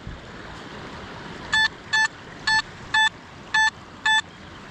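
A metal detector searching a river site sounds six evenly spaced, identical electronic beeps, each a short steady tone about half a second apart, over a constant wash of flowing water.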